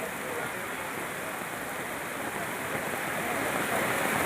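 A continuous, even roar of rushing floodwater from a village during heavy rain fills the whole stretch, loud and unbroken, with no voices.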